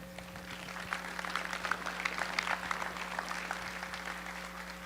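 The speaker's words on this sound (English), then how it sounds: "Let's everyone give them a warm round of applause as they come to the stage" Fairly faint, sparse applause from a conference audience as panelists walk onto the stage, scattered claps over a steady background hum.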